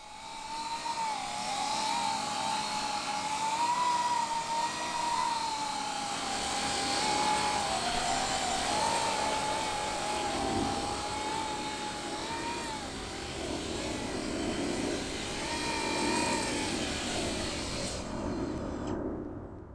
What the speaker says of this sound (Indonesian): saya belum pernah menerbangkan drone yang bisa melayang di atas bantalan udara seperti ini